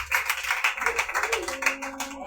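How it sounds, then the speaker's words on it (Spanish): Congregation clapping during an evangelical church service, rhythmic loud claps layered with voices and a sustained tone underneath. "Denle un aplauso a Cristo"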